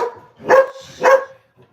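Two puppies bark indoors, giving two sharp, loud yaps close by about half a second apart, followed by a faint soft sound.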